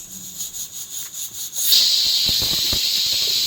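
A pressure cooker on a high-flame stove with its lid closed lets out a sharp rising whistle, then a steady loud hiss of escaping steam with faint rattling underneath.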